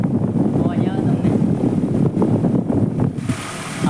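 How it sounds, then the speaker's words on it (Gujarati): Strong wind blows through a village near Dwarka, a loud continuous buffeting roar with gusty rushing and microphone rumble throughout. "તો મિત્રો તમે જોઈ પવન કેવો આવે અવાજ આવે તમને?"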